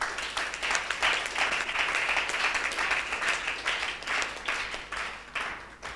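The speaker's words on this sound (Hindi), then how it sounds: "जोर से तालियां बजाइए" A church congregation claps loudly during a Hindi sermon, many hands beating in a fast, dense patter that swells and holds for several seconds before tapering slightly.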